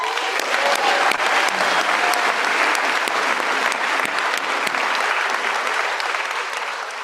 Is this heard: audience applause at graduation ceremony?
yes